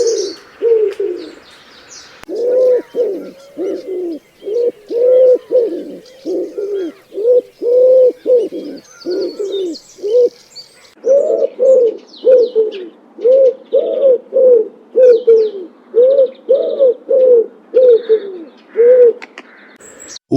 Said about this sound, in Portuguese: O pombo turcaz está presente em Portugal durante todo o ano